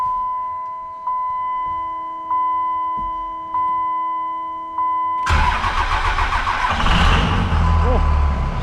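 A vehicle engine cranks and fires up after a run of evenly spaced warning chimes, then settles into a loud, steady running roar, recorded close by during a transmission heat exchanger test.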